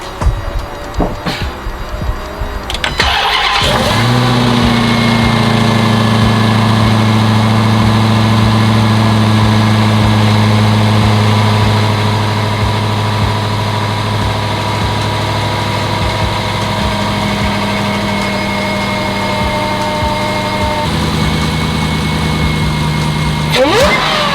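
A Dodge Hellcat engine cranks and roars to life, then settles into a loud, deep, throbbing idle that rumbles steadily for a long stretch.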